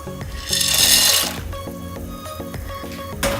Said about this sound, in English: Now we can add our penne.